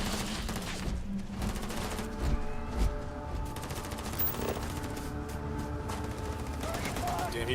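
Gunfire in the space game Starfield rattles on continuously as dense bursts and fusillades of shots under game music, with a player speaking occasionally over it.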